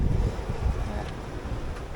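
Wind rushes over a sailboat beating upwind through big waves in the Doldrums, a steady low roar with gusty buffeting against the microphone throughout, with no voices.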